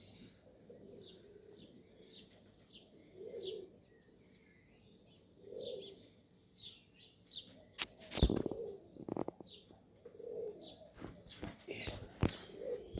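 Racing pigeons at a home loft near dusk, with soft low cooing phrases repeating every couple of seconds and a few sharp flutters and knocks as birds land, alongside faint chirps in the background.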